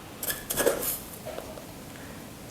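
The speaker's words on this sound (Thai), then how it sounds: "ก็จะใส่ชามาค่ะ เป็น 40 กรัมก็คือ 4 ช้อนนะคะ" Dry tea leaves spooned into a container, a few quiet scraping and clinking taps of a spoon against the vessel, close and soft with no talk.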